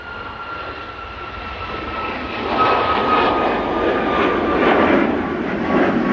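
An airliner on its takeoff roll bound for Malta at Manchester Airport gives a broad, steady jet roar that swells and grows louder partway through, with no talk.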